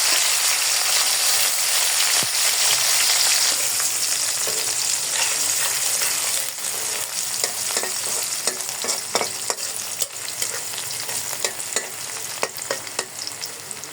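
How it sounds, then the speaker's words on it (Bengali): Garlic and dried chillies frying in hot oil in a pan, a loud continuous sizzle close by, later broken by sharp clicks and scrapes of stirring. "এই যে আমার হচ্ছে রসুনটা ভাজি হয়ে গেছে"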